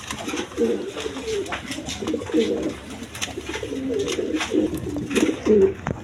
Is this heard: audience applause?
no